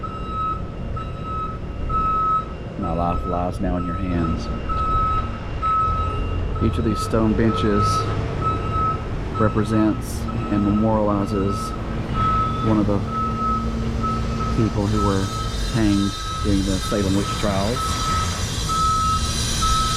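A construction truck's reversing alarm beeps steadily nearby in a regular on-off rhythm while someone speaks over it and engine rumble fills the background.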